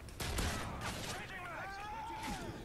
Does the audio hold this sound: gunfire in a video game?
yes